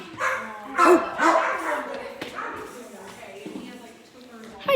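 A dog at an animal shelter gives several short barks and yips nearby, mixed with people talking throughout.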